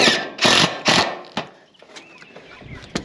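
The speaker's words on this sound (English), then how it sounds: "Just putting those screws right through the high" Screws driven through metal roofing panels: three loud whirring bursts from a drill in quick succession, then quieter clicks, taps and scraping against the sheet metal.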